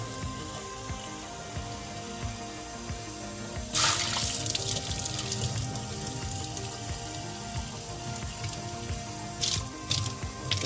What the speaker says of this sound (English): And we rinse it off.